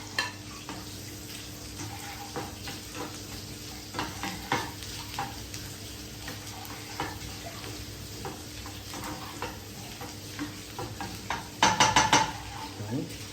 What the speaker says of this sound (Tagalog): gisa natin guys yung bawang